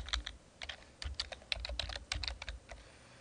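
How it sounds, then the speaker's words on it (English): Quick, light keystrokes on a computer keyboard as a username and password are entered at a desktop: a close, quiet run of irregular clicks over about three seconds. "you type in your Lehigh username and then your Lehigh password"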